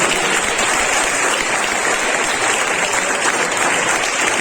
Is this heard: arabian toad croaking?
no